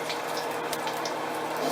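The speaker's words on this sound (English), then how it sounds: "just pour the oil in the fry daddy" Cooking oil poured into a Fry Daddy deep fryer, a steady close liquid gurgle and splash lasting the whole moment, with no talking.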